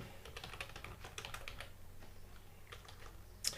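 Quiet typing on a computer keyboard while writing JavaScript code, soft irregular key clicks in short bursts with a sharper tap near the end.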